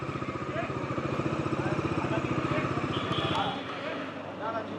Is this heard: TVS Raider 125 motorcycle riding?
yes